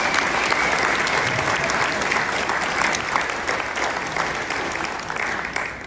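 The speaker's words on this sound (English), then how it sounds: "Let's give them a round of applause for being here." Steady applause from an arena audience greeting political candidates at a gubernatorial debate, dense broadband clapping filling the whole stretch without pause.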